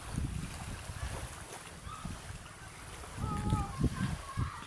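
Wind gusts and rumbles against the microphone outdoors, with people talking intermittently underneath and a faint high whine drifting through.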